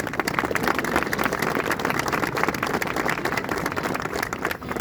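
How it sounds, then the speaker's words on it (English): A crowd applauds Civil Air Patrol cadets of a cadet squadron outdoors at a Wreaths Across America ceremony in a national cemetery, steady dense clapping lasting several seconds before tapering at the end. "let's give them a big round of applause"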